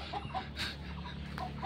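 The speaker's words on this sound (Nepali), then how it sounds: "कस्तो कुखुरा हो यो घाँटी पिल्चुवा कुखुरा रहेछ कुखुराको फार्म यहाँ रहेछ" Naked-neck chickens on a chicken farm give a few soft, scattered clucks over steady outdoor background noise, close by and moderately loud.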